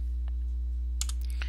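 Short bursts of computer keyboard typing as a command is entered during a game, a faint early tap then a quick run of clicks near the end, over a steady low electrical hum.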